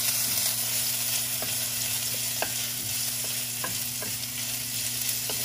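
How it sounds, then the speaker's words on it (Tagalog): Tuna belly adobo sautéing in a pan, a steady close sizzle with a low hum and scattered light scrapes of stirring, no voices. "Magigisa na siya."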